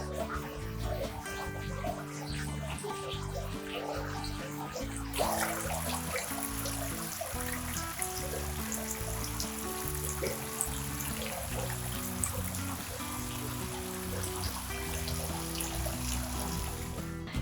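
Water flows and trickles steadily in a Japanese-style garden in Sydney during autumn, a soft continuous babble with faint musical tones underneath and no talking.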